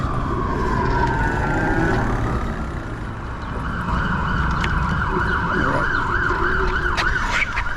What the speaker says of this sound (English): Oh, got an ambulance coming.